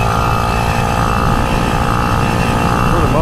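A 49cc motorized bicycle engine drones steadily and loudly while riding, a continuous buzzing hum with some wind rumble mixed in.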